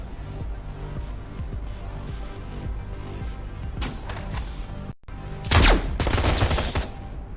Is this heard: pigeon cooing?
no